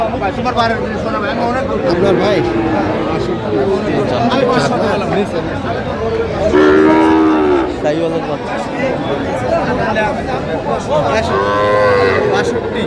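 Sahiwal cattle low and moo repeatedly amid a busy crowd at a cattle market, with people talking and chattering close by throughout.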